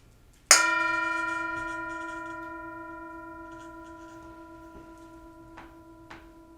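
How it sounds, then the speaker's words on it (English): A single bell struck once during a Buddhist Christian Lent service, ringing out with a long, slowly fading resonance, followed by a few faint knocks and small thuds in the background. "I'll invite the bell to sound."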